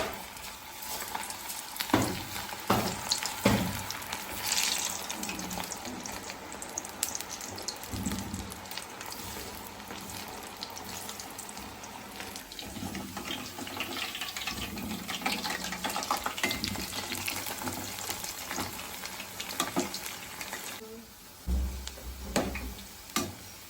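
Uggani pakodi frying in hot oil: a steady, close crackling sizzle fills the whole stretch, with a few clattering knocks near the start and a brief bump near the end, and no voices.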